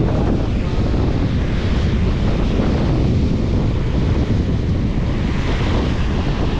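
Loud sea waves and gusting wind roar steadily at close range on a shore, a dense continuous rush with no voices.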